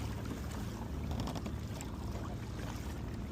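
A Hobie Compass kayak fitted with a small single motor moves across open water, giving a steady broadband rush of wind and water noise that stays constant throughout, with no clear motor whine rising above it.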